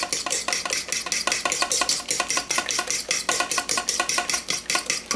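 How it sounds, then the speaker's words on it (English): An egg and salt being stirred into kefir dough with a utensil in a bowl, a steady rapid rhythm of close, loud scraping and clinking strokes with no talking. "Now 1 egg I'm adding into this. Salt, Mix it together."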